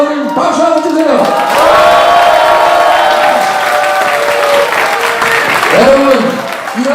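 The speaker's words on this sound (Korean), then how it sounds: "우리 유동수 의원님 박수 한번 주세요." Crowd applause for lawmaker Yoo Dong-soo at a political gathering with citizens, loud sustained clapping and cheering under an amplified voice speaking over it.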